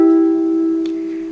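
A sustained guitar chord already ringing slowly dies away, with a faint click partway through; no talking accompanies it.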